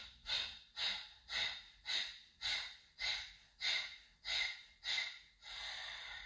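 Kapalabhati breathing during a vinyasa yoga flow: about ten forceful, rhythmic nasal exhalations, evenly paced at roughly two per second and heard close up, ending in a longer sustained breath.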